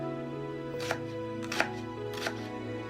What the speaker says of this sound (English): I cut into 4 parts, and then I chop them up